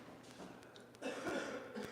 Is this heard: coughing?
yes